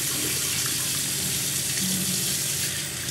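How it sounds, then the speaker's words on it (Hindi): Tap water running steadily into a sink during face washing, a continuous close hiss and splash with no talking. "तो इससे मैं अब मुंह धो लेती हूँ।"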